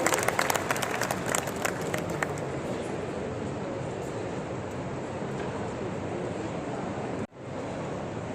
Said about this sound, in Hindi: श्री देवेश कुमार सिंह जी का जोरदार तालियों से स्वागत करते हैं।